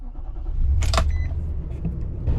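A pickup truck's engine rumbles low and steady as it pulls away to drive, with a brief clatter near the start and a continuous road-vehicle drone throughout.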